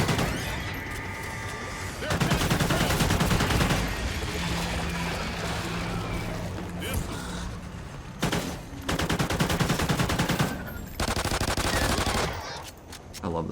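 Heavy gunfire in a Call of Duty Zombies game with a pistol in use, loud rapid bursts broken by short pauses, with some speech mixed in.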